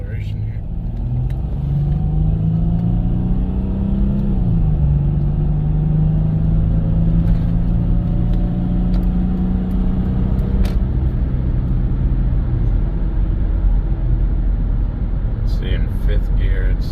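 A 2007 Jeep Grand Cherokee CRD with a swapped-in Mercedes 642 diesel and 3.07 gears accelerates on the highway, a loud steady cabin drone whose engine tone rises and shifts, with road rumble throughout.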